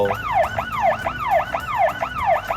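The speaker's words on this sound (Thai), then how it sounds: "ฟังก์ชัน SOS เอาไว้ เปิดเสียงเตือนหรือไล่ผู้บุกรุกที่เข้ามาในพื้นที่ของเรา" A security camera's SOS alarm siren meant to scare off intruders, a loud wailing electronic siren sweeping up and down in a steady repeating cycle, several rapid whoops in a row with no talking.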